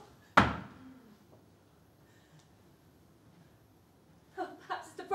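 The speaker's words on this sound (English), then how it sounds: "there is a sudden loud knocking on the door." A sudden loud knock on a door acts as a staged effect during a Passover scene in a stage musical concert: one sharp bang, followed by quiet room tone, then voices starting to speak near the end.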